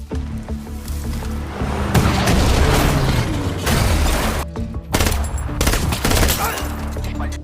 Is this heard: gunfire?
yes